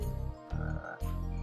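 Frog enemies in a Spyro video game give deep, throbbing croaks in two close bursts, loud and near.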